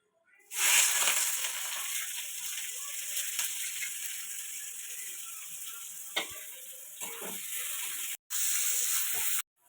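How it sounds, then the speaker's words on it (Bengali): Onion dropped into hot oil in a wok, a loud sizzle that bursts in suddenly and then hisses steadily, with a few stirring knocks and a brief cut near the end. "এবার পেঁয়াজটা ছেড়ে দেবো"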